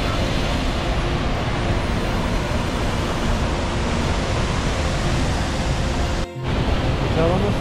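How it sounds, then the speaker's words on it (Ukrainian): Waterfall in Johnston Canyon, Banff, heard as a steady, loud broadband rush of falling water from close by, continuous throughout with one brief dip near the end. "Так водоспад як згори виглядає."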